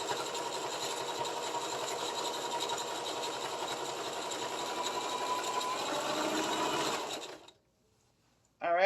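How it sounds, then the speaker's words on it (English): A sewing machine stitches fabric for a turban headband in a steady, close, even whirring run for about seven seconds, then stops abruptly into near silence. "And then we're gonna sew it down nicely."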